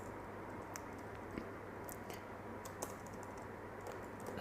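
Soft, quick keystrokes on a computer keyboard entering commands in a Linux terminal tap out an irregular rhythm, faint and close over a low steady hum.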